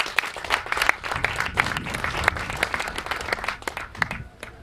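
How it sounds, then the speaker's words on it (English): Crowd applause at a bust unveiling ceremony in Jamaica, a moderate, steady patter of many hands clapping with distinct sharp claps throughout, lasting under five seconds. "So big round of applause for Gibbs Williams."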